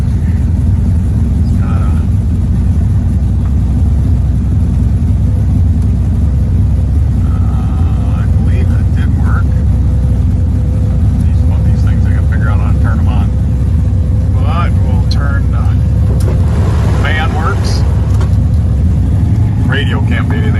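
Deep, steady rumble of a 1967 Chevelle SS with a 427 V8 idling just under 1,000 RPM, loud and continuous, with people talking over it.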